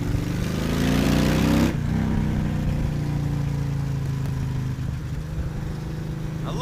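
A motorcycle fitted with an upgraded exhaust and intake plus a power commander is ridden: a loud, rising rev cuts off sharply as the rider shifts, followed by a lower, steady engine drone while cruising on a dry day.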